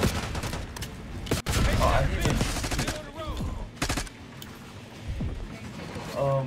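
Gunfire in the Call of Duty: Black Ops 6 campaign rattles in rapid bursts, loud and close. A player talks over the shooting.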